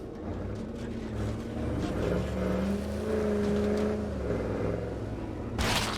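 Engine drone of a car driving in a survival video game, a steady mid-level hum that shifts pitch as it moves, with a burst of brighter noise near the end.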